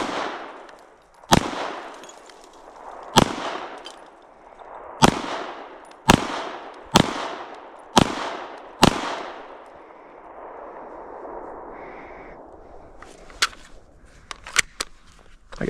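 Handgun shots at an outdoor shooting range, striker-fired or DA/SA pistol: seven sharp, loud reports spaced about a second or two apart, each with a short echoing decay, then a quieter stretch ending in a few small clicks and clacks.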